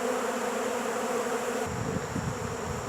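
A dense, steady buzzing of many honeybees swarming around beehive supers in a yard and garage hums continuously, close and loud, with no voices.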